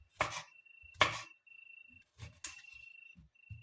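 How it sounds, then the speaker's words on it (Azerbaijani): A knife chops apples into small pieces on a board for apple compote, giving a few sharp, close knocks spaced about a second apart, with quieter taps between them and a faint steady tone in the background. "almalarımızı belə xırda-xırda doğradıq"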